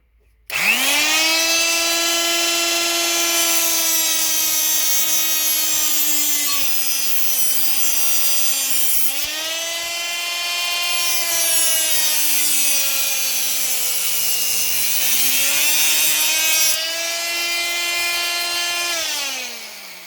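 An off-cut cutting disc grinds a stainless steel washer with a loud, continuous whine that dips and rises in pitch as pressure changes, running close and unbroken for about twenty seconds.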